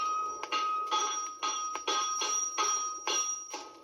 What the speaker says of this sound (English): Then he'll start to shape the shoe on the anvil.